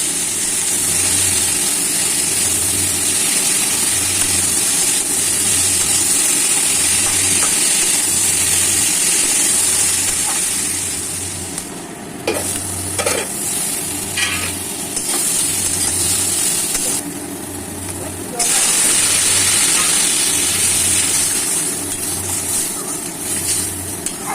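Chopped ginger and bitter gourd sizzle in hot oil while a spatula stirs them, for a fish curry. A loud, continuous frying hiss is joined by a regular low scraping pulse, a few sharp clinks and a dip in the middle.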